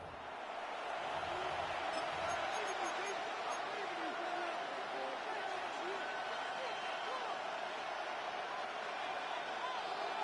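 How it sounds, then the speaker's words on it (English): A steady, roaring stadium crowd cheers without letup from an NFL game in EA Sports' football video game, 49ers vs Texans, a dense wash of noise sustained for the whole stretch. "The crowd making their presence felt."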